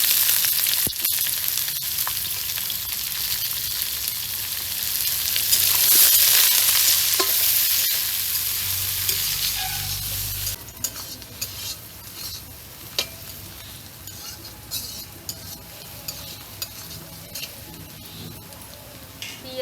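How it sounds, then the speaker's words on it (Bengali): Green chillies fry in oil in a pan, a loud dense sizzle with stirring that gradually thins into sparse pops and crackles. "কাঁচা মরিচটা ভাজা হয়ে গেছে"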